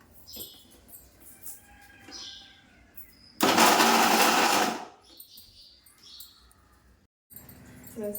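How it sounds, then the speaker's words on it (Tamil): A mixer grinder grinds cut coconut into coconut milk, roaring in one loud burst of about a second and a half that stands out against an otherwise quiet kitchen. "இதை வந்து பார்த்தீங்கன்னா தேங்காய் பாலை அரைச்சி எடுத்துப்போம்."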